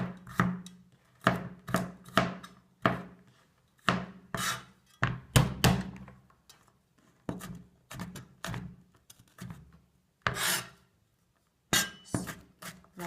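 A knife roughly chops two big garlic cloves on a board, giving crisp, close, irregular taps in quick clusters with brief pauses between, no talking.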